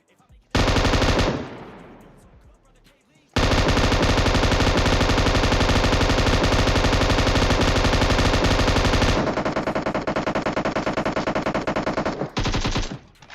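Gunfire in the PUBG Mobile video game: a short burst, then long, loud, sustained automatic fire that rattles on for several seconds and ends in a few final shots.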